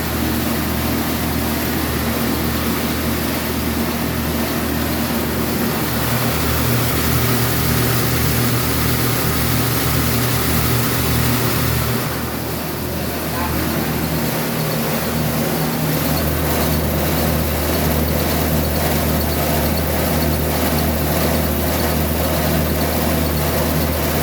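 Steady motor engine running at a rice mill, a continuous low droning hum with machinery whirr that stays loud and constant throughout, with no talk.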